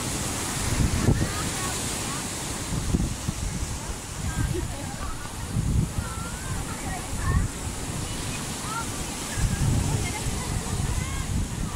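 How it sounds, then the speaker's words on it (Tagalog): Big ocean waves break repeatedly along an island shore while strong wind buffets the microphone, the surf surging in loud rolling bursts with people talking over it. "Hindi tayo matapat sa malaking alon,"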